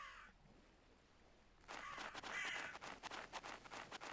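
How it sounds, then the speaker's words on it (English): Crows cawing in the medieval survival game Nested Lands, a burst of harsh, repeated calls starting abruptly partway through and continuing in loud, overlapping squawks. "Is that what the birds are making the noise about?"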